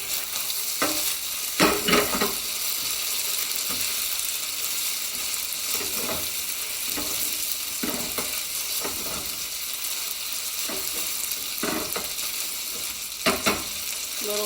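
Ricotta gnocchi sizzle steadily in a hot pan, with a constant loud frying hiss broken by occasional scraping clatters as the pieces are tossed and stirred.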